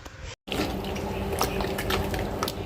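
Water pours steadily into a cooking pot in a kitchen, a continuous splashing rush that starts after a brief cut and runs on alone.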